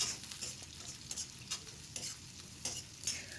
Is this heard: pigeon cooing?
no